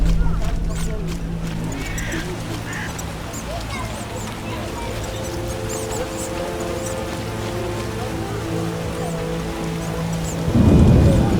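Heavy thunderstorm rain in The Witcher game, a steady broad wash of downpour with low rumbling thunder throughout and a louder thunder crack near the end, with game music tones underneath.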